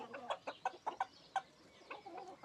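Ancona chickens cluck softly in a coop, a run of short, close, throaty calls in a loose rhythm with no voices over them.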